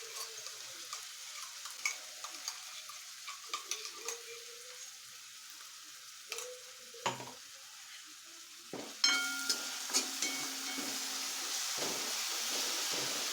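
Onion frying in a pan as a paste of coconut, garlic and ginger goes in, soft sizzling with scattered stirring clicks, then a louder, steady hiss once the paste hits the oil.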